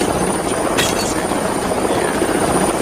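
A helicopter lands in the film Alien vs Predator, its loud, steady rotor and engine roar filling the scene without pause, close and dominant.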